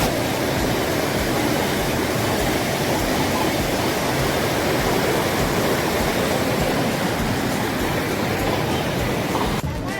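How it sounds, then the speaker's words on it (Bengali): Loud, steady rushing of river water near a boat crossing at Rajrappa, Jharkhand, a dense continuous roar filling the whole stretch without pause. "দেখুন জলের যে আওয়াজ"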